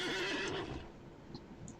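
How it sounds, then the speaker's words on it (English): A horse neighs in the Lord of the Rings Online game, a loud drawn-out whinny that fades into soft snorting and light hoof movement, close with no talk. "So I'm going to get on my horse."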